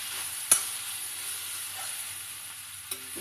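Mashed ingredients being stirred into a flour mixture, heard as a faint, quiet background hiss with two brief sharp clicks of a utensil against the bowl, close by, without speech.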